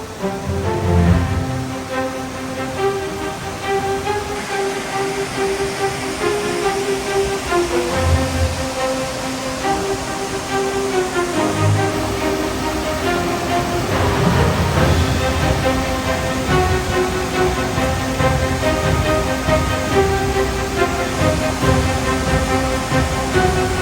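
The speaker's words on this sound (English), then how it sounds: "Got some other cascades above" Rushing water at the top of Lucifer's Falls in Robert H. Treman State Park, a steady, broad roar of cascades heard close and continuous throughout, with no talk over it.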